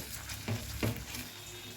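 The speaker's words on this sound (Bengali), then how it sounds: "এবার কিন্তু গ্যাসটা সিম রেখেই সুন্দর করে একটু কষে নেব" Shahi paneer masala being stir-fried over a low flame: a faint, close sizzle with two quick spatula scrapes through the thick gravy.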